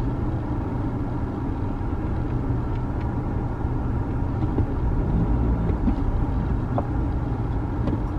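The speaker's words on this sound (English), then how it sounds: "Car is straightening itself up." A Nissan Qashqai creeps slowly while parking itself, giving a low, steady engine rumble near idle throughout, with faint clicks and no voices.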